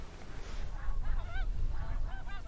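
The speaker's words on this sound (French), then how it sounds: "Le cri de la grande oie des neiges, qui ressemble à un aboiement de chien" A greater snow goose gives a quick run of loud, nasal, bark-like honks, several calls close together over a low background rumble.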